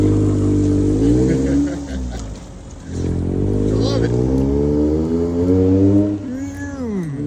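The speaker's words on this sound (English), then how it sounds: "check out this bug truck and train" A bug-themed truck drives by on a street in Japan, its engine droning and revving steadily beneath continuous nearby talk.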